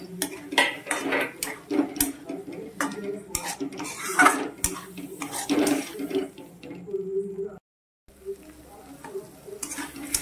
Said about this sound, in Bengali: পনির কষানো হয়ে গেছে।